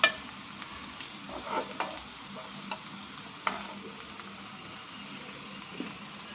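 Stuffed okra fries uncovered in a pan, giving a soft steady sizzle with a few faint clicks and light stirring taps scattered throughout, all fairly quiet and close.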